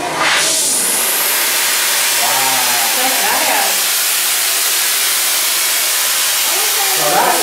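A gas torch burns with oxygen mixed into the flame, giving a loud, steady, close roar of hissing that holds for the whole stretch. A voice can be heard faintly over it.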